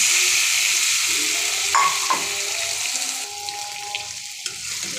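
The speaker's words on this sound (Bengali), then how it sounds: "মাখানো মাংসটা দিয়ে দিচ্ছি" Marinated chicken pieces tipped onto fried onions in a pan sizzle loudly and steadily, with scraping stirs and a few clinks of a utensil, close and without talk.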